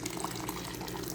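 Hot water poured into dough makes a soft, steady liquid trickle. It is faint and close, runs without a break for about a second, and no voices are heard.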